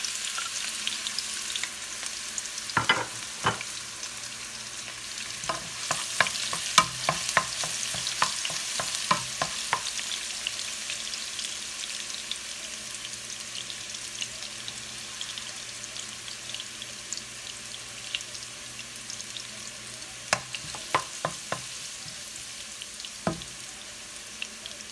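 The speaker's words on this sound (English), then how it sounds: "So I need to saute the garlic and ginger." Garlic and ginger sauté in a pan for a sweet potato stir fry, a steady mid-level sizzle running throughout, broken by clusters of sharp scraping stirs and clinks near the start and again toward the end.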